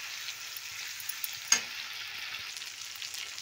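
Chopped tomatoes fry in a pan for poha, a soft continuous sizzle broken by a sharp scrape of the stirring spoon against the pan.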